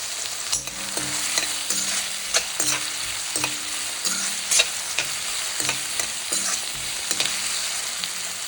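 Salted onions sauté in a pan with a constant, busy frying hiss. Frequent utensil knocks and scrapes from stirring sit over a faint tonal hum.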